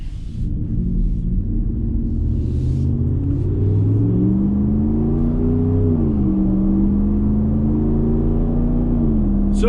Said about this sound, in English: So just taking a little cruise around.